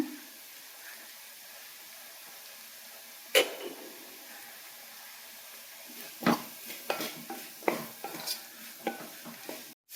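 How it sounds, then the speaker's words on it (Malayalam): A pan of onions sautéing with a pinch of turmeric and salt for a Kerala mushroom theeyal, with a soft, faint sizzle under a few sharp spatula scrapes and clinks against the pan, growing busier toward the end. "ഇച്ചിരി ഉപ്പ് കൂടെ ചേർത്ത് വഴറ്റണേ"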